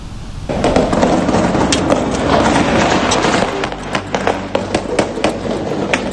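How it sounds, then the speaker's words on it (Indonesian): A rapid burst of sharp gunfire cracks and pops, aimed at a drone flying near a presidential palace, erupts after a brief quiet moment, then continues in irregular volleys, loud and echoing, with no talk. "Rentetan tembakan terdengar"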